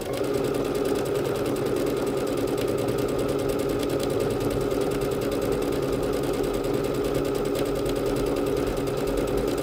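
A Bernette B-77 sewing machine stitches a decorative wiggle-and-leaves pattern, running as a steady, fast mechanical whir with a regular needle rhythm throughout, close up and alone.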